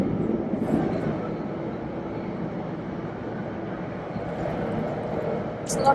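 A high-speed maglev train runs between Shanghai and the airport, heard from inside as a steady, even rumble and rush that stays constant throughout, ending with a short bright chirp.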